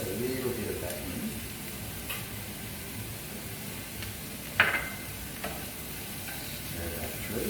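Cauliflower egg fried rice being stir-fried, a steady low sizzle with scraping and stirring throughout, one sharp clink of a utensil partway through, with background voice-like murmur.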